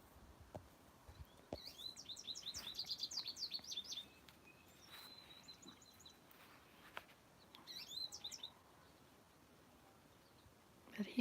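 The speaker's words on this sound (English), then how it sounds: "It's house finches, and that one over there is a goldfinch." House finches and a goldfinch sing in bursts of quick chirping and twittering warbles, moderately close, with quiet gaps between phrases.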